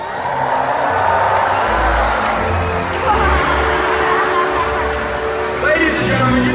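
An audience at a killer whale show cheers loudly and continuously, a broad sustained roar of many voices in a large open venue.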